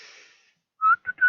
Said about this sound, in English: Oh, I should never whistle into the microphone.